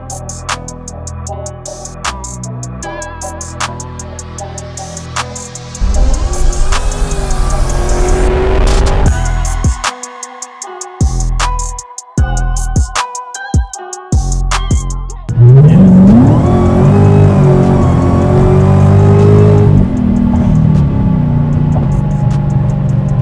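A car engine revs hard and accelerates, roaring loudly with rising pitch, broken by brief gear-change gaps, then surging again close by.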